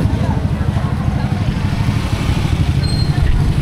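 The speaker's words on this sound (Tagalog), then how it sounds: "Ayun pala ang motor." A motorcycle engine rumbles steadily throughout, loud and close, with a constant low drone and no pauses.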